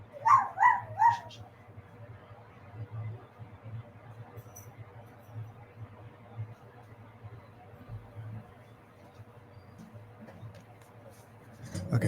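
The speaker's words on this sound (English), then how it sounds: "Oh, I hear the dog." A puppy whimpers and yips three or four times in quick succession near the start, wanting to be let in, then only a low steady room hum remains.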